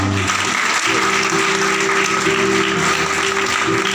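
Loud, steady applause from a church congregation during a Christian worship service, a dense sustained clapping that fills the whole stretch with a few voices faintly mixed in.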